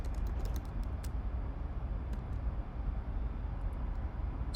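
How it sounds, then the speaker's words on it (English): Rapid, light clicks of typing on a computer keyboard come in bursts at the start and again later, close and crisp over a steady low background hum. "Sorry, my keyboard is."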